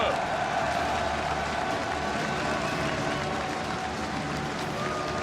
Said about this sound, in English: Une première salle d'applaudissements s'il vous plaît pour les champions de la LMS.